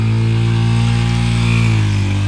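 Honda CRF300L dirt bike engine running with the choke out just after starting, a loud, close, steady idle drone with a strong low rumble, no voices.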